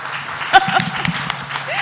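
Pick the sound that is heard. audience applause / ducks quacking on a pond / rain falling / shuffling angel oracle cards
audience applause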